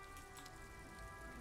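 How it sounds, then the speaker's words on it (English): Steady rain patters on a surface in a continuous, even hiss with soft drop detail, moderately faint and heard alone. "It's raining again."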